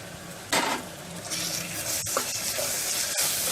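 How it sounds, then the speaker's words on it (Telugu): Ginger garlic paste fries in a pot for Andhra gongura mutton curry, a steady sizzle that flares loudly as the paste goes in, with metal spoon scrapes and clinks against the pan. "ఇవి వేగిన తర్వాత అల్లం వెల్లుల్లి పేస్ట్ వేసుకుని వేయించుకోవాలి."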